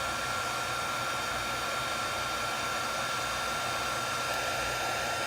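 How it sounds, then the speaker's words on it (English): A heat gun blows a constant, steady roar of hot air onto a heat-cure repair compound, a broad, even hiss and whoosh lasting throughout with no change in level, with no one speaking. "Put it right on the repair. Cook the repair, basically."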